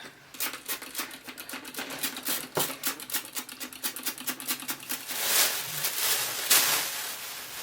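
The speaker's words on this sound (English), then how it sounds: "Again, you're going to spray with the water." Spray bottle spraying water onto soil in a seed pot, with a rapid series of sharp hissing squirts in an even rhythm at close range, then a longer continuous spray near the end.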